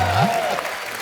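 Studio audience on a comedy talk show clapping together, a dense wash of applause that swells at first and then eases off slightly, with a voice briefly heard over it.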